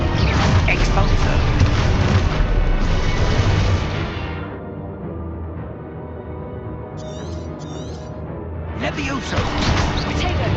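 An Expulso blasting spell goes off in Hogwarts Legacy combat amid heavy booming crashes and impacts, loud and close, with a brief lull before the blasts resume and a voice heard over the noise.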